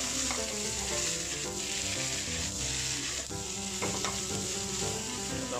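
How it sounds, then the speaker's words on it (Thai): Shredded chicken being stir-fried for a Thai basil stir-fry, with a continuous loud sizzle and stirring scrapes and taps against the pan throughout, with no talking. "ผัดไปเลยนะครับผัดให้ทั่วนะครับคลุกเคล้าให้ทั่ว"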